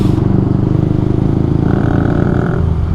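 A Bajaj Rouser 180 motorcycle with an aftermarket muffler runs loud and close, a steady deep throbbing exhaust note that holds throughout with no talk.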